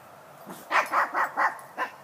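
A dog barks toward a neighbour's yard in a quick burst of five or six moderately close barks, with a small whine at the start.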